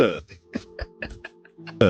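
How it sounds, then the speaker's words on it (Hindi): A burp from someone playing a See-Saw battle game, one guttural belch among short bursts of low, voice-like sound. It is fairly loud and close, with no clear speech. "तो ये प्रिंस से पहले डकार क्यों मारी"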